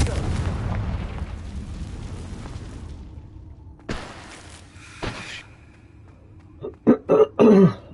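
Blasts of the Confringo fire spell in Hogwarts Legacy, a rumbling rush followed by sharp bursts and a cluster of loud, close booming impacts toward the end.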